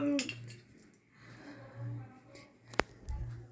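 A spoon clinks against dishes at a meal, soft scrapes and taps under murmured voices, with one sharp, bright clink standing out near the end.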